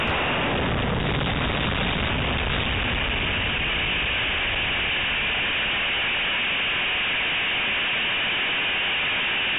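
SLS fuel tank bursting in a structural test after withstanding 260% of expected flight loads: a steady, loud broadband roar of rushing noise that fills the whole clip without letup.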